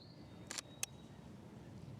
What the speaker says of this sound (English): So let's take a shot.